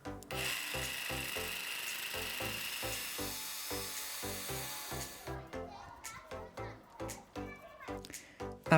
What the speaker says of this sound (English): The little grooves were first marked in with a Dremel and then smoothed out using a hand file